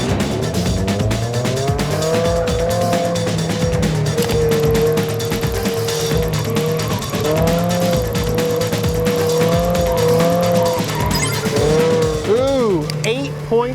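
A Mazda Miata on modern tires is driven hard, its engine revving loudly and continuously while the tires squeal through sustained cornering, with occasional voices and an exclamation over the noise.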